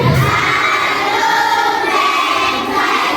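A packed crowd at an event at Complexe Hibiscus cheers loudly without pause, high voices shrieking and shouting in one continuous close roar.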